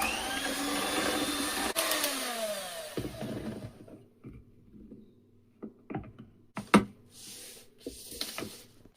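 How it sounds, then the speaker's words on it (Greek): An electric mixer whipping cream stiff for a homemade no-bake cheesecake, a loud close whir for about three seconds that then cuts off, followed by scattered light clicks and taps. "Χτυπάμε τη σαντιγί να γίνει σφιχτή."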